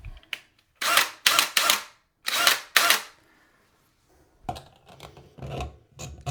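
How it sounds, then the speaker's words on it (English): A diamond milling bit grinds a sink's drain hole larger, heard as a few short, harsh rasping bursts in two close-up clusters separated by quiet pauses. "So we need to start grinding"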